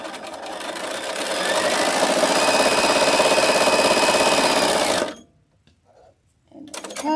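A sewing machine stitches fabric in a fast, steady mechanical run close by for about five seconds, then stops abruptly, followed by brief quiet handling noise.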